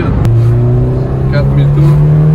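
Engine note of a Peugeot 206 S16 accelerating in fourth gear, a loud steady drone rising slowly in pitch from inside the car.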